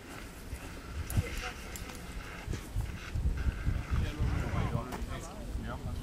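A saddled horse moves about outdoors, its hooves thudding and clopping softly and unevenly beneath steady talk from nearby people.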